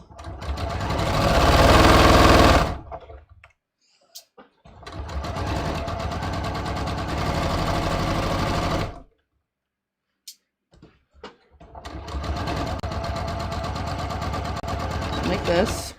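A domestic sewing machine stitches a jeans pocket bag seam in three bursts of steady rapid clatter, separated by quiet pauses, close and clear.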